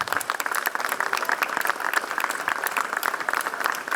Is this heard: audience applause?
yes